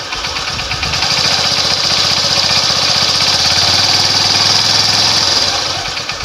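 Idling engine of a Motorstar Supremo TMX 150 motorcycle after an air filter change, a steady close, loud low putter with fast regular firing pulses and a hissing intake wash, running alone throughout.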